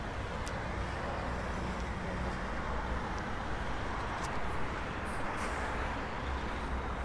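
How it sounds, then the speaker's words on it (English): A truck passing outside, heard as a steady broadband road rumble with low-end drone lasting the whole stretch, fairly distant and constant, with no talk over it. "there's a truck going by"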